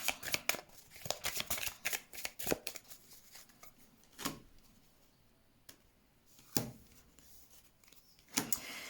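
Tarot cards being shuffled by hand for a reading, a run of soft riffling and snapping bursts, close and fairly quiet, with short pauses between the shuffles and no talk.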